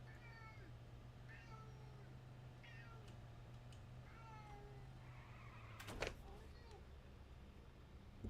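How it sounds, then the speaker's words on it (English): A gray cat meows several times, faint and somewhat distant, over a steady low hum, with a brief sharp knock or thud near the end. "Apparently my gray cat wants attention."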